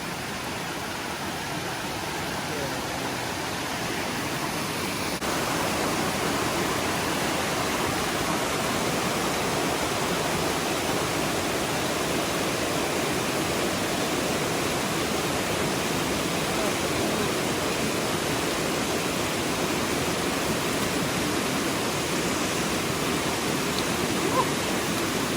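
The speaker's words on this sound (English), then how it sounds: "here we are at the little water crossing we've got to do. It's not very wide, but it's kind of deep and fast moving." A deep, fast-moving stream rushes past at a narrow wilderness water crossing on the Middle Prong loop in North Carolina, a loud, steady broadband roar that swells slightly after a few seconds and continues unbroken.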